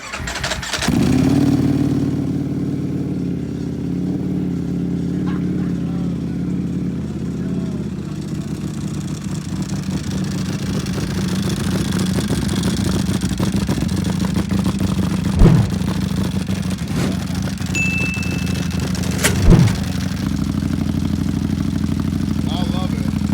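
A Ducati Panigale V4 SP2 sport bike fitted with an aftermarket exhaust cranks over and settles into a steady, loud, rumbling idle, with a couple of sharp throttle blips, while people talk nearby.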